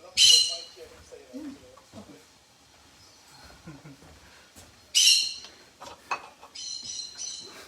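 Charlie, a pet bird indoors, shouts back at a playback of his own calls: two loud, sharp shrieks several seconds apart, with quieter squawks and murmurs in between.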